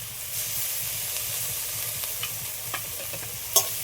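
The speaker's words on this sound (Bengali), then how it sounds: "সবগুলো একসাথে আরেকটু নেড়ে নেবো ভালো করে।" Mashed green peas with chopped coriander stirred in a sizzling frying pan, a constant close hiss of frying with soft scraping strokes and a sharper clink near the end.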